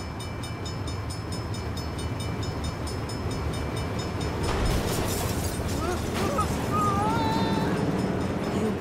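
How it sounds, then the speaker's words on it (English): Train approaching in the video game Saints Row: a loud, steady rumble of wheels on rails builds, then a crashing impact as it arrives, with screeching metal and shouts on top. "That's a fucking train!"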